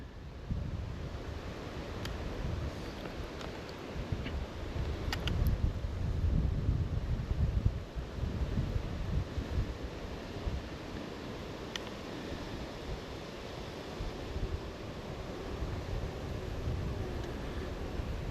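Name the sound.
wind blowing outdoors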